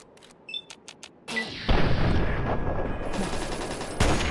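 Gunfire in the video game Fallout 3: a few faint clicks, then a loud sustained burst of rapid shots with a booming crack near the end, close and dense, with no talking.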